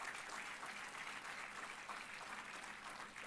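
Graduation-day audience applauding steadily for a medal winner at a medical college ceremony, dense continuous clapping from a large hall crowd, fairly distant and even throughout.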